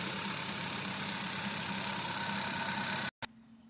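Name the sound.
2016 Hyundai Tucson engine idling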